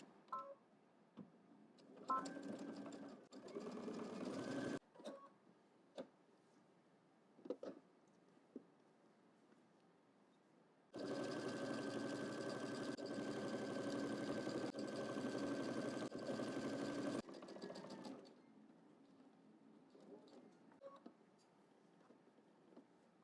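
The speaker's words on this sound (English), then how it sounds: "All right, so let's stitch this down" A sewing machine stitches fabric along a garment neckline for the Know Me ME2118 pattern, running in one steady whirring burst of about six seconds, with quieter fabric handling and small clicks before and after.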